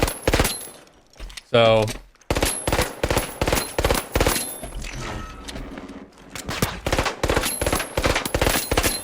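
Rapid gunfire from a new weapon in The Finals video game, sharp close bursts of shots in quick rhythm with brief pauses, a mechanical reload-like rattle, and a short spoken word near the start.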